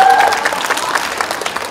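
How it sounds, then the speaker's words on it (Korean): A brief burst of audience clapping at an outdoor community culture festival, a close, dense patter that holds steady for a moment. "박수!"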